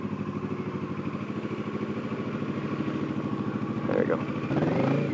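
A motorcycle idles close by with a steady, even chugging pulse while it pulls over to park, and a rider speaks over the engine near the end.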